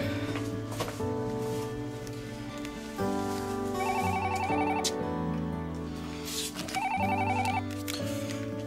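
A telephone rings in two repeated electronic ringtone bursts, loud and close, with a melodic trilling pattern that repeats and no talk over it.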